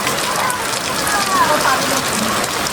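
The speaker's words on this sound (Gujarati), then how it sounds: "તો હજુ વરસાદ ચાલુ ને ચાલુ હોય" Steady monsoon rain pours down on a flooded village in a dense, even hiss, with faint voices in the background.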